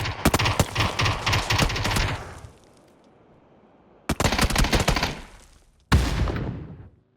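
Automatic M16 rifle fire in the PUBG battle royale game, loud rapid bursts over about two seconds, then two more short volleys after a brief lull.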